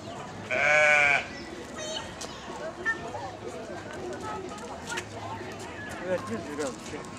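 Sheep bleat once, loud and close, in a short harmonic burst near the start, then a farmyard murmur of distant animal sounds and faint voices carries on.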